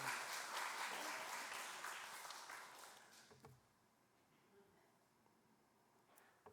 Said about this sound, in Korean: 같이 좀 박수 한번 보내줍시다.